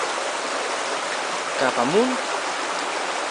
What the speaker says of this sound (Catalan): Fixeu-se com brolla l'aigua des d'ahí.